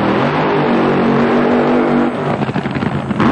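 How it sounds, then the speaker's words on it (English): A drag racing car at the 1997 NHRA Pennzoil Nationals during Saturday morning qualifying: a loud, close engine roar that breaks into a rough, crackling, revving burst near the end. "Paul Romaine's car there on the right-hand lane"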